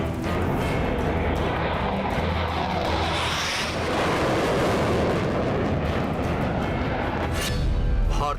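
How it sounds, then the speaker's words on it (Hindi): Heavy booming blasts from Indian Army artillery at a forward base roll out over a continuous loud rumble, with echoing thunder-like reverberation and no speech. "भारतीय तोपों की गरज से थर्राया चीन।"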